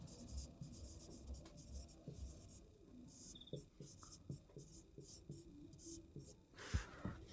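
Chalk or marker scratching on a board during a Hindi trigonometry lesson on angles of elevation, a series of short, close strokes and taps in a quiet room without talk.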